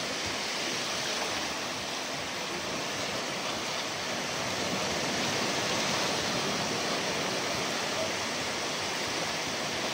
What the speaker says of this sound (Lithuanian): Bangos iš tikrųjų tai būna didesnis, būna mažesnis, dabar tai tokios nedidelės iš tikrųjų.